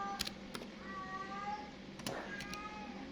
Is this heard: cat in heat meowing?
yes